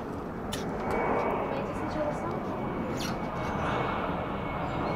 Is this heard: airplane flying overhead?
yes